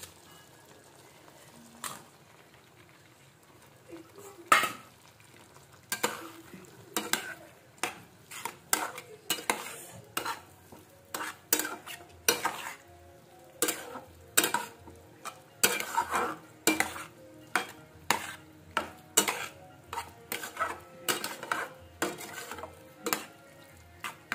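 Eggs being stirred into a thickened butter garlic mixture in a pan, with repeated close clinks and scrapes of a utensil against the pan over a low sizzle.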